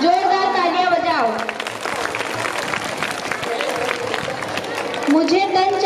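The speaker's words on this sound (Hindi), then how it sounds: "जोरदार तालियां बजाओ" An audience applauds loudly after a school performance. Dense, steady clapping runs for several seconds, with a person speaking before and after it.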